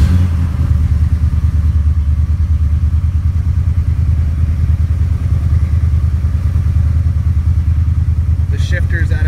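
A 1986 Chevrolet El Camino with a rebuilt engine idles loudly and steadily after starting, a deep rumbling throb filling the whole stretch without pause, with a faint metallic clatter near the end.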